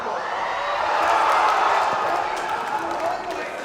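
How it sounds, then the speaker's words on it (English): A steady, roaring crowd cheers at a Pokkén Tournament top-eight match during the Respawn 6 event, a sustained wash of voices and whoops beneath a commentator talking. "And the crowd is going wild"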